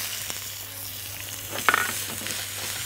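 Onion fries in hot olive oil with a steady close sizzle and scattered crackles, plus a brief clatter of stirring midway.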